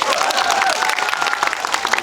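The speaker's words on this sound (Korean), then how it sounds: "박수 한번 주세요." Audience applause mixed with crowd cheering at a Korean film talk event on stage, a dense steady wash of clapping and voices filling the whole stretch.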